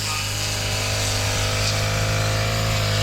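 A grass cutter runs at a loud, constant motor whine while cutting grass along the edge of a field being prepared for plowing. The noise is close and sustained throughout, and no one speaks.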